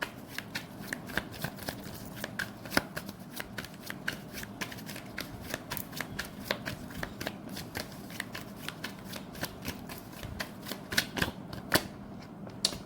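Tarot cards being shuffled close up in a steady, rapid stream of soft riffling slaps and flicks continuing throughout, with no talk over them.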